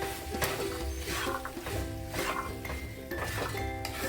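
Fried potatoes and boiled peas for chicken ghugni are stirred in a pot, with repeated spoon scrapes and clinks against metal over a soft sizzle, close and moderately loud.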